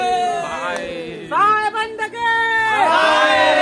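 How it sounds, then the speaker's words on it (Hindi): Dense crowd noise at a busy pilgrimage fair in Bandhavgarh, loud overlapping voices, shouts and chatter filling the whole stretch with no quiet gaps. "आज मेला में भीड़ बहुत है"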